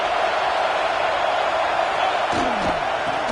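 A stadium crowd roars at an NCAA college football game on a third down near the goal line, a loud sustained wall of cheering noise with a sharp slam partway through.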